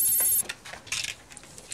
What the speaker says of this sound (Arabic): محدش بيرد على التليفون ليه؟